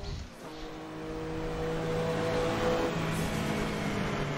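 Racing cars from 1985 Le Mans Group C, including a BMW M1 and Jaguars, roar past one after another down the Mulsanne Straight in Assetto Corsa, a steady loud engine drone with rising pitch, no talking.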